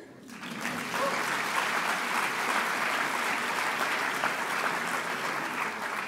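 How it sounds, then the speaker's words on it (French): Sustained applause from a conference audience at an opening ceremony, rising quickly after a brief quiet start into a dense, steady wash of many hands clapping that holds loud for several seconds. "qu'on peut nous applaudir là"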